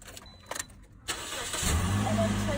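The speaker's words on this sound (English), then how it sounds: "You'd have to start the car" A car engine cranks briefly after a few faint clicks, then catches and settles into a steady idle close by, with no talking.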